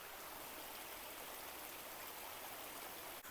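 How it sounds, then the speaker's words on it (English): A river rushes steadily outdoors in one loud, unbroken wash of flowing water, with no voices over it. "I'm in front of a really beautiful river right now, and I'm sure you can hear it in the background."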